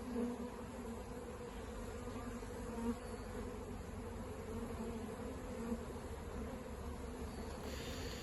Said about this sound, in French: La grappe d'abeilles est ensuite transférée par petits tas.